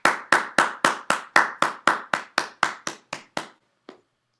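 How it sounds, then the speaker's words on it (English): Steady, evenly spaced hand claps, about a dozen in a row, then a brief pause and one last clap, crisp and close at a Toastmasters club meeting. "Give them a round of applause."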